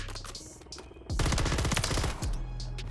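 RAM 9 submachine gun from Modern Warfare 3 firing a loud, rapid automatic burst of about a second, preceded by quieter game sounds and followed by a low hum.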